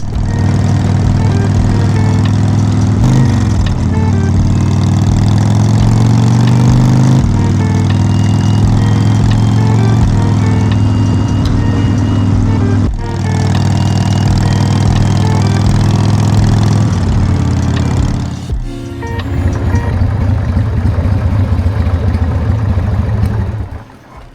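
A motorbike due for an overhaul with a leaking rocker box gasket drones loudly and continuously while riding on the road from Canberra to Shellharbour, its engine pitch shifting up and down through gear changes, with no talk.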